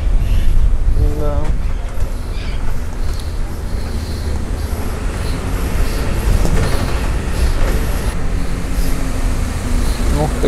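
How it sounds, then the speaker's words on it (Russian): A city tram rolls just ahead on a narrow Istanbul street, its steady rail rumble and a brief wheel squeal carrying through the car interior. Busy traffic hum surrounds it, and people talk over it. "А мы прям за трамваем едем."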